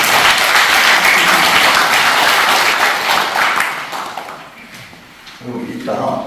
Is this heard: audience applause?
yes